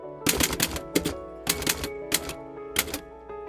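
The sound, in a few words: typewriter typing in a repair shop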